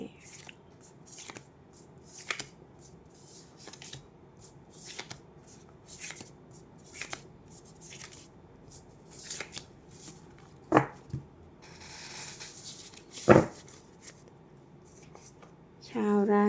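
Tarot cards being shuffled by hand at close range, a series of soft riffles and slaps spaced every second or so, with two sharper snaps and someone talking over them at the end.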